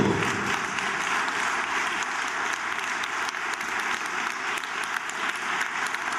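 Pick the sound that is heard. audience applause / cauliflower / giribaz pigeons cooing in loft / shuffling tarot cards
audience applause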